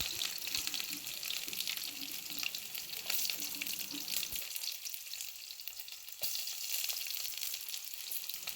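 Chopped onion and garlic fry in hot oil for brinjal and tomato bhaji, a steady close sizzle with occasional clinks of a utensil and a sudden drop in the low rumble halfway through.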